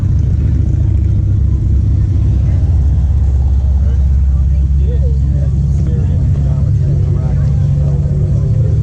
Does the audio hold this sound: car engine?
yes